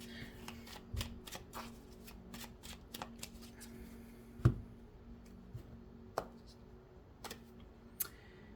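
Tarot cards are shuffled by hand in quick, soft, riffling ticks. The sound stays quiet and close, with a few louder snaps among the steady patter.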